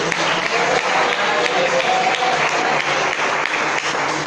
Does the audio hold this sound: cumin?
no